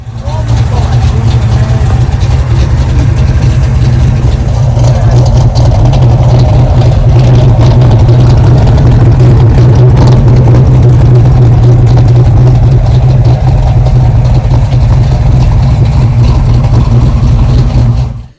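Engine of a 1971 Chrysler E-body with a stroked 496 cubic inch big block, six-pack carburetion and a four-speed, running as a loud, steady low rumble with a slight surge near the middle, close by at a car show.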